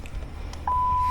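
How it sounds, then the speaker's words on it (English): A steady electronic warning tone from the airbag system of a 26-year-old truck starts abruptly and holds loud and close after a brief rumble of cab noise. "My airbag buzzer never stops working."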